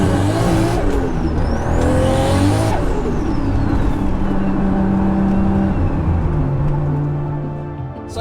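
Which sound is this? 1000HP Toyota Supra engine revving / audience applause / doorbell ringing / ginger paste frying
1000HP Toyota Supra engine revving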